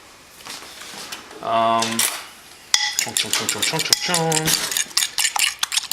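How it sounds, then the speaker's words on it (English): A utensil clinks and scrapes against a bowl in short bursts while eggs are mixed. The strokes are loud, close and irregular. "All right, so mix up these eggs."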